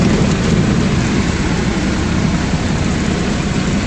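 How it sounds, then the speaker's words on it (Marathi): Heavy monsoon rain pours down steadily during a road trip near Ramshej fort, a loud, dense, unbroken roar of water with a deep low rumble underneath. "पाऊस चालू आहे"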